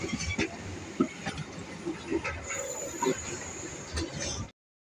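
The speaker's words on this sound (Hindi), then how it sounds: "Indian railway" An Indian Railways train running on the tracks, heard as a rumbling rolling sound with rhythmic clanks and a faint high squeal, while people talk nearby over it before it cuts off abruptly.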